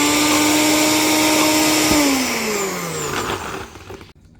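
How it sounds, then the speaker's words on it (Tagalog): A kitchen blender blending dates whirs loudly and steadily, then drops in pitch as it slows and winds down before cutting off into near silence. "i-blender ko na po yung dates."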